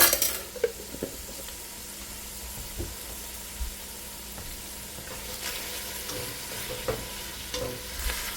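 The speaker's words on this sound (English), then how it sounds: "So I'm just stirring this up" Garlic and onions stirred and broken up in a frying pan for taco pasta, a low sizzle with intermittent spoon scrapes and clinks against the pan, close, no speech.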